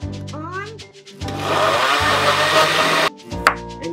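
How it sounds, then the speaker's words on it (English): A kitchen blender whirs loudly for about two seconds while making a creamy carrot dip, then cuts off abruptly, with people talking just before and after. "We put our blender on."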